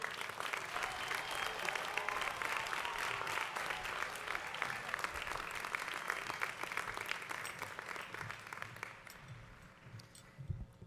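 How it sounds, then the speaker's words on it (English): A high school graduation crowd claps for the 2021 salutatorian, a sustained broadband wash of applause that holds steady for about nine seconds before thinning and fading near the end. "Please give a well-deserved round of applause for your 2021 Lake Highlands High School salutatorian, Luke Fairbanks."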